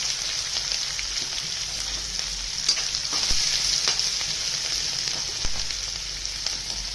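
Onions sauté with curry leaves, green chillies and asafoetida in a pan for egg pohe, a steady close sizzle that continues throughout, broken by occasional stirring scrapes, with no talking.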